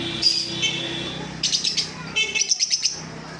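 Lovebirds for sale, close, loud, high chirps and tweets that come in quick bursts, with a steady low hum underneath and no clear speech.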